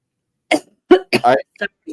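Several short, sharp coughs come in quick succession, close up and separated by brief silences.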